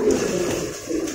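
Pigeons in a large loft cooing softly, a short low murmur of calls, near and fairly quiet.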